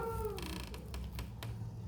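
Several cats meowing in a Thai home, a few short, faint calls close by against a quiet background.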